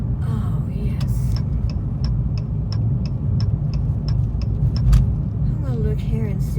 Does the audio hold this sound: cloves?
no